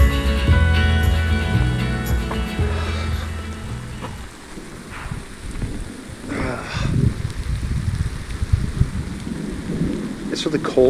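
Heavy rain pours down with hail on a cold, mostly downhill stretch of trail ride, a dense steady wash with sharp scattered impacts and low rumbling after a tonal passage fades out.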